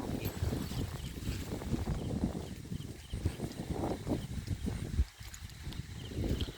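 Strong wind buffets the microphone in gusty, rumbling bursts that rise and fall throughout, with one brief lull.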